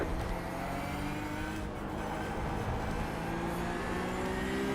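A race car engine in the driving game Assetto Corsa holds a steady, moderately loud whine with sustained engine tones and no clear revving swells.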